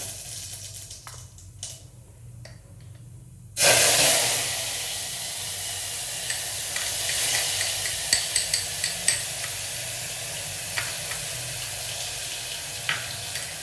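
Overheated oil in a pan bursts into a loud sizzle after a few quiet seconds, then settles into a steady crackling hiss dotted with sharp pops and spatters, close by with no talking.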